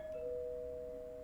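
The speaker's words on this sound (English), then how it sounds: "Doorbell. That's coming from the video game, not at your house" A doorbell chime rings in the video game Void Stranger, a steady sustained tone that holds at a low, even level for the whole short stretch, with no talk over it.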